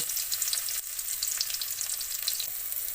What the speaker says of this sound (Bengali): তেলের উপরে থেতো করা রসুন দিয়ে দিব।